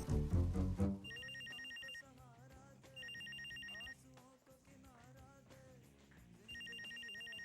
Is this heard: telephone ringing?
yes